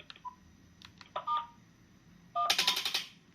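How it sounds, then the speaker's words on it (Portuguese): Keypad tones on a CIP 850 intercom used to open a door lock: a few short beeps of key presses, then a louder, longer buzzing tone burst as the lock releases, close and alone. "Alô, eu posso abrir a fechadura."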